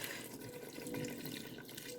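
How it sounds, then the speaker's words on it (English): Four cups of bean juice are poured in while making fry bread tacos, a soft, continuous liquid rush that stays faint and steady throughout. "There is 4 cups of the bean juice, and I'm just going to pour that in."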